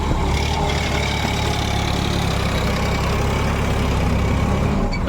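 A tractor engine runs steadily at close range, a continuous loud low rumble with a constant idle-like throb and no change in pace.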